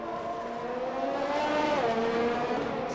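A race car in a realistic racing game at Yas Marina braking into a corner. The engine whines steadily, its pitch sliding down as the car slows, loud and close with no voices.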